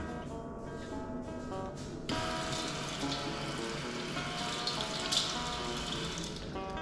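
Water from an outdoor shower pours steadily, then the flow jumps louder and splashes continuously, a close, constant rush.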